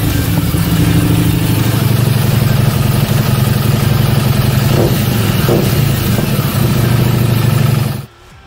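A Harley-Davidson Street 750 motorcycle with loud, low pipes idles and burbles in a deep, steady rumble close by, with a couple of brief throttle blips before the sound cuts off abruptly at the end.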